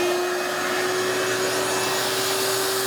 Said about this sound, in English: I can come in here now with a shop vac